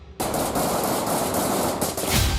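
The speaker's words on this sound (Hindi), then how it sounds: "पहले रडार पर गोली फायर होती है" Sniper rifle fire at the Israel-Lebanon border, with loud, dense bursts of gunfire striking a radar installation; sharp repeated cracks ring out close up over continuous rough noise, with no speech.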